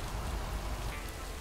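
Rain falls steadily in the video game Lake, a soft continuous patter on surfaces with no voices over it.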